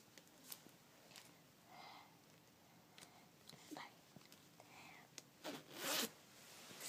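A blouse zipper is pulled shut in a few short raspy bursts, quiet and close, among soft rustling of fabric and a louder swish at the end.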